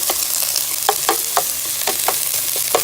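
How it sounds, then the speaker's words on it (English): Vegetables sautéing in a pan over a gas stove flame, an even hissing sizzle throughout with a regular series of light stirring taps and scrapes. "We'll let those saute for 15-20 minutes"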